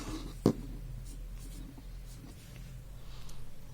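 Chalk or marker writing on a board during a maths lesson, a sharp tap followed by faint scratchy strokes against a steady room hum.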